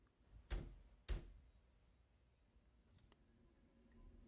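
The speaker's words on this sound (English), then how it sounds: "Knocking can be heard coming from the basement door, but Claymore says everyone is asleep" Two sharp, heavy knocks strike a basement door at night, about half a second apart, followed by faint creaks and scattered small thuds in a quiet house.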